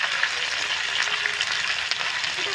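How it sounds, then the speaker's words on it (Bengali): Tomato, ginger paste, dried chilli and cumin paste sautéing with fried potatoes give a dense, continuous sizzle with faint scraping, close and steady throughout and free of talk. "আমি এখন কষিয়ে নেব"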